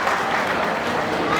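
Audience applause breaks out at a youth organization's prize distribution ceremony, a steady crowd clapping that holds at an even level through the short moment.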